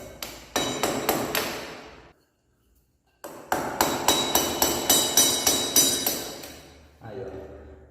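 A bicycle spoke is hammered against a BMW F800GS brake pad retaining pin. Sharp metallic taps come in a quick steady series, pause for about a second, then return as another run of closely spaced, ringing strikes.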